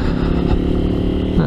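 A Kuba Çita 180 R Gold motorcycle engine revs up close and loud, its dense throaty drone holding steady through the whole short stretch.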